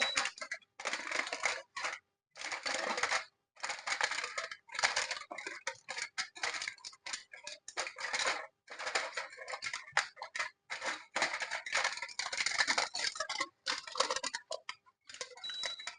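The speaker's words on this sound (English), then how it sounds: "I'm just going to pull this foil paper back just a little bit so we can just get an idea of how this is coming out." Aluminium foil over mango habanero ribs in a Power XL cooker crinkles and crackles as it is peeled back, a close, steady run of dry rustling bursts broken by short pauses, with no talking.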